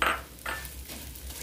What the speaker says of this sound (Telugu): సేమియాని స్టవ్ మీడియం ఫ్లేమ్ లో పెట్టుకొని దోరగా వేయించుకోవాలండి